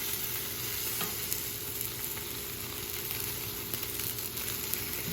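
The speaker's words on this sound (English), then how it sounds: "So I just flipped all these sausages." Sausages sizzle in a frying pan, a steady dense crackle and hiss that holds evenly throughout, close and fairly quiet, with no voices.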